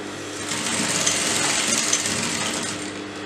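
Sewing machine stitching rope onto a fabric neckline, a steady loud mechanical whir with rapid needle clatter running continuously after a brief start.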